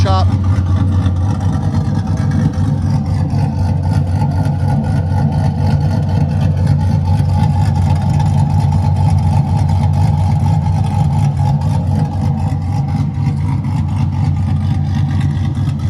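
A 1999 Trans Am with an upgraded exhaust and new brake rotors idles with a loud, choppy rumble and revs, a deep steady drone close by throughout, with a voice talking over it.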